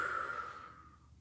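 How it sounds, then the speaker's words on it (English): A breathing exercise at a kids' yoga class: one soft exhale blown out through the mouth, fading over about a second, quiet and close with no talking. "We'll sniff, sniff, sniff. And blow."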